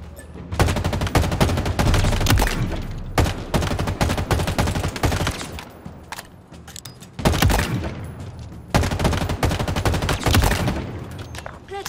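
Repeated bursts of weapon fire at shooting-range targets in Halo Infinite, loud dense volleys separated by brief pauses across the span, with no talk.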